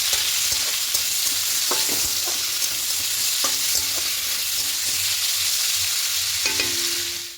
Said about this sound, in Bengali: দিয়ে পনিরটাকে হালকা একটু লাল করে ভেজে দেবো।